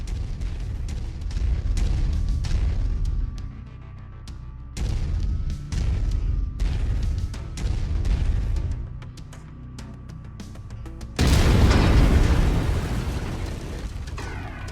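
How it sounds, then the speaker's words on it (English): Autocannon fire in the mech combat game MechWarrior 5: Mercenaries, heavy booming shots in separate bursts with short pauses, ending in a louder, sustained blast near the close. "I've mapped the autocannon to Weapon Group 1. You're free to fire whenever you're ready."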